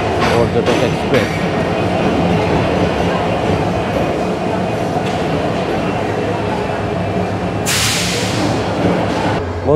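Parjatak Express train on the Dhaka to Cox's Bazar run, a steady loud rumble of rolling stock with a brief hiss burst near the end, voices talking over it.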